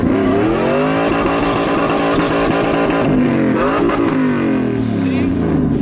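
An LS1-powered Silverado truck with a T56 manual gearbox revs hard against a 2-step launch limiter, then its engine note sweeps up and down as it launches, loud and close throughout.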